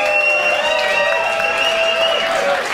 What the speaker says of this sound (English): Give them another round of applause right now.